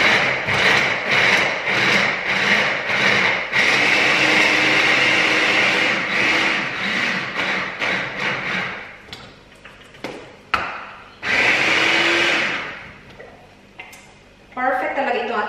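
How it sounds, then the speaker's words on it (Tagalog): A food chopper cuts carrots, spring onions, garlic and onion in loud, rhythmic whirring bursts, then stops and restarts in shorter pulses with pauses in between. "Perfect talaga ito ating chopper."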